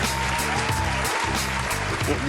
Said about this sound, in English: Big round of applause for him and the Philippines